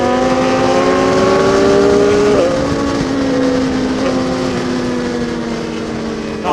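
A sportbike engine rising and falling in pitch as motorcycles ride downhill on the Marilaque mountain road, a loud sustained high-revving whine with a shift in tone partway through.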